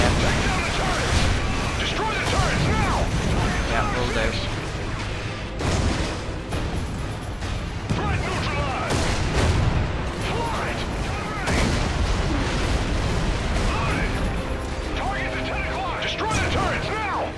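Dense explosions and rapid gunfire roar almost without pause as turrets are destroyed in Call of Duty: Ghosts, with heavy booms throughout, layered under in-game radio chatter and talking.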